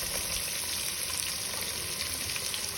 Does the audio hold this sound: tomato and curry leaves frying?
yes